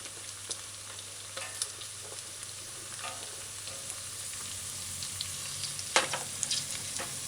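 Onions stir-fried in oil with a wooden spoon for chicken chop suey: a soft, constant sizzle with sparse taps and scrapes of the spoon, close and without speech.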